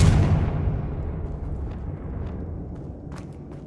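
In the Hogwarts Legacy video game, the Confringo blasting spell lands as a loud, booming burst at the start, then rumbles and decays over a few seconds with faint scattered crackles.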